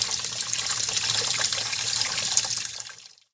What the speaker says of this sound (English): I'm gonna take it off and put it under running water.